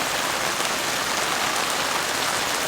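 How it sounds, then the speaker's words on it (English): Steady, constant rain falls during a heavy storm, a dense even hiss of drops pattering on surfaces around a car and tarp camp, with no voices. "Some nice constant rain."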